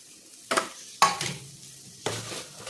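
Bitter gourd curry with turmeric and garam masala being sautéed in a pan, with a few distinct scraping stirs of a spoon against the metal over a soft, low sizzle, close up and with no talking.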